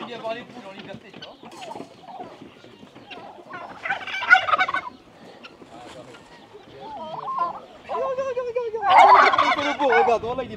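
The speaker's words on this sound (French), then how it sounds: "C'est des dindes." Farm turkeys, including a displaying male, gobble in two loud, rattling bursts, one early and a longer one near the end, amid clucking hens and people talking close by.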